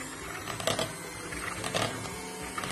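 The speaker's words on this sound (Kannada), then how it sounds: "ನಾನಿಲ್ಲಿ ಒಂದು ಹ್ಯಾಂಡ್ ಬೀಟರ್ ತೆಕ್ಕೊಂಡಿದ್ದೀನಿ" Electric hand beater whipping cream for homemade mango ice cream, a steady fast mechanical whir with faint rattling ticks of the beaters against the bowl, fairly quiet and close, no talk.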